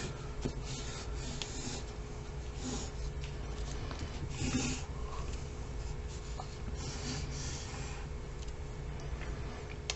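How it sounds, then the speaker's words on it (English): A pen or pencil scratches steadily across folded paper while a name is written, giving a continuous close scratching with small bursts of stronger strokes and no speech. "You're going to write your name along this folded edge."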